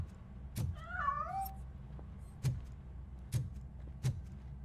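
A cat meows inside a piano in the video game RoboCop: Rogue City: one wavering, rising-and-falling meow near the start, then several soft thumps and knocks spaced apart afterward.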